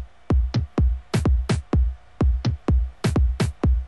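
South African gqom drum pattern of deep kick hits and pitched toms, a syncopated, evenly spaced rhythm of punchy, booming strikes, loud and alone.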